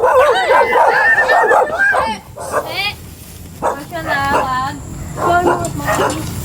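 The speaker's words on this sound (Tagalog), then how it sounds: "Daming aso." Several dogs bark, yip and whimper in excited bursts close by, with people talking and calling out over the commotion.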